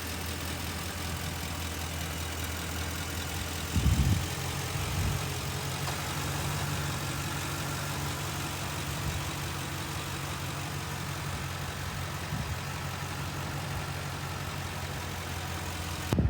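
A 2019 Ford E-350 dually box truck with a 6.2-liter gasoline V8 and six-speed automatic idles steadily with a low, even hum. A few soft thumps come near the start and end, and no one speaks.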